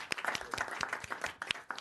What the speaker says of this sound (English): let's give a round of applause to Dr. Sarkisian.